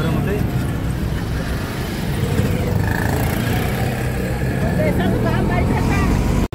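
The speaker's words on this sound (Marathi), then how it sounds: "आणि आता रिक्षा करून स्टँडकडे चाललेलो आहे" Steady engine and road rumble from an auto rickshaw ride heading to the bus stand at Akkalkot, continuous and fairly loud throughout with a faint horn-like tone mid-ride and muffled background traffic.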